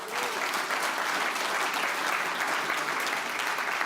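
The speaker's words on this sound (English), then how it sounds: "So give yourselves a round of applause." A conference crowd applauds steadily and loudly, a dense wash of clapping that holds at an even level throughout.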